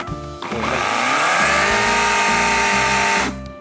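A Greenworks electric chainsaw starts and runs at full speed for about three seconds with a loud, steady high-pitched whine, then cuts off abruptly. No one talks over it.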